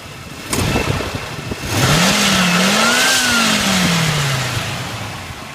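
A 1994 Buick Roadmaster Estate station wagon with an LT1 V8 and 155,000 miles revs loudly close by, with a sharp blip and then a longer rise and fall in engine pitch before settling back toward idle.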